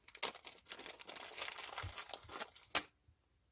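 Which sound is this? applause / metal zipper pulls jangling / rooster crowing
metal zipper pulls jangling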